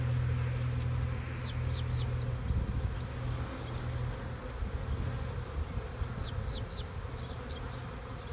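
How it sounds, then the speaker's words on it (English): A huge honey bee swarm hums steadily and loudly up close, a dense continuous buzz filling the whole stretch, with a few faint chirps of birds in the distance. "I am just blown away with how many bees are in here."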